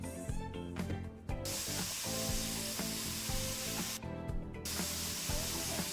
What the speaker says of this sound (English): That's the sound of like the paint running out.